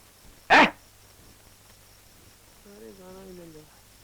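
A single short, sharp dog bark close by, followed by a moment of quiet and then a brief spoken voice.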